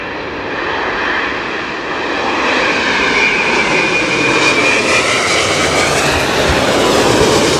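A jet airliner lands at London Heathrow in a strong crosswind during Storm Floris, its engine roar loud and steady, swelling gradually with wind-buffeted rumble throughout.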